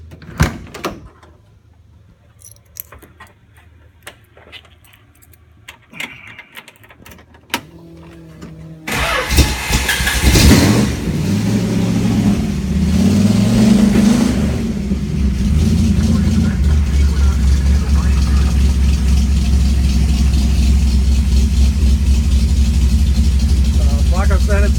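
A car with an aggressive cam, apparently a '49 Plymouth, cranks and fires up after some quiet talk and handling noises, then settles into a loud, steady, lumpy idle close by.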